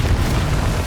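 Confringo fire spell blasting in Hogwarts Legacy, a dense, rumbling explosive boom that fills the whole moment with heavy low-end roar and no voices.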